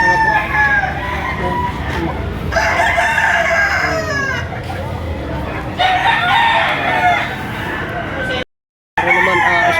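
Roosters crow repeatedly at a busy poultry market in Batangas, several long calls rising over clucking and crowd noise, with people talking throughout and a brief gap near the end.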